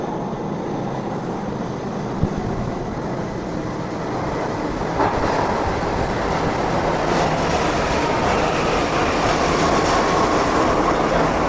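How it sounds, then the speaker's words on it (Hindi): A Delhi Metro train pulls into a crowded station near Rajiv Chowk with a loud, steady rumble and rail clatter that builds and holds, filling the platform with dense mechanical noise. "देखिए मेट्रो आ गया"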